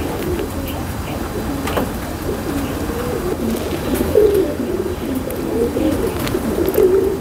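Highflyer pigeons, teddy and golden birds, coo softly and repeatedly in their loft, with low burbling calls building louder toward the end over a faint background hum.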